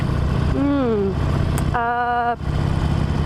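A Harley-Davidson motorcycle engine rumbles while riding, its pitch rising then dropping and climbing again through a gear shift into second, loud and close, with a person talking intermittently over it.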